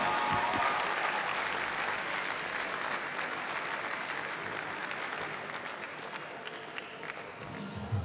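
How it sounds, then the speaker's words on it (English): Audience applause for the winner of a grappling match at a Polaris event, a broad sustained clapping from a crowd that gradually fades over several seconds. "round of applause for your winner, Marcus Phelan."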